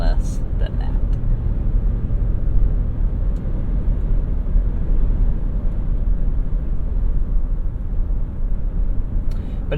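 A 2021 Nissan Armada cruises on a test drive, its engine and road rumble a steady, close low drone heard from inside the cabin, with occasional faint clicks and no talk.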